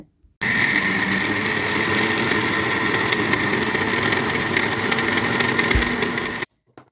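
A steady, loud motor drone with a coarse grinding churn runs without a break, a wet grinder working through soaked lentils, with no voices.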